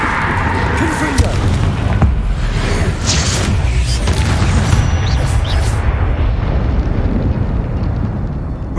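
A Confringo spell explodes in the Hogwarts Legacy video game, a loud booming blast followed by a rolling rumble and fiery whooshes, with a voice speaking over part of it.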